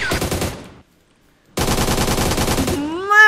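Gunfire in a Minecraft game comes as two rapid automatic bursts, loud and close, split by a brief silence, and the second burst ends in a rising tone.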